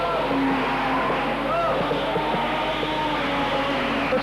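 A modified production race car laps the Wangaratta circuit, engine roaring steadily at close range with a faint tire squeal, under a commentator's voice.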